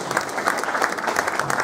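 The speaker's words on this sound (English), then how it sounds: "give yourself a round of applause" A small crowd of thirty or forty people at a British Touring Car Championship owners club media day breaks into steady, dense applause that fills the whole moment at close range.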